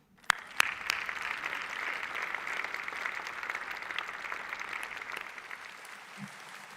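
An audience applauds during a county State of the County address, a couple of sharp claps opening into broad, steady clapping that tapers off toward the end, with no speech over it.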